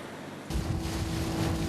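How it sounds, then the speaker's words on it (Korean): Strong ocean waves heave at sea around an island, rough enough to turn a boat back. A brief, sudden surge of broad rushing water and wind noise breaks in after a moment of quiet. "파도 때문에."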